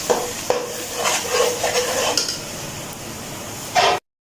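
Ground onion paste is tipped into a pan of browned onions and stirred for a chicken kofta curry. A spoon scrapes and clinks against the pan over a soft sizzle, with a sharper clatter near the end.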